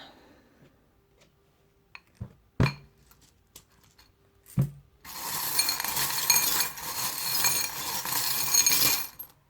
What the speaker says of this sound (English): The little tiny wine glass just fell out.